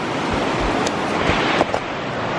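A river flows in a steady rush of water, carried along with outdoor wind noise near a cabin in cold weather.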